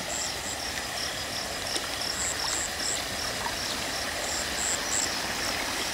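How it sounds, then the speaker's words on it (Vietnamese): Clear forest stream water flows continuously in the wild at morning, a steady broadband rushing close by, with faint repeating high insect or bird chirps above it. "Một nguồn nước suối tinh khiết."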